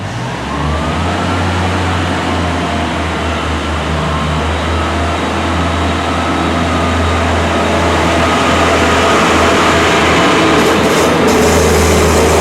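A train rumbles steadily with a deep low drone and broad mechanical noise, building slightly louder as it pulls away from a station platform on the Riviera Line.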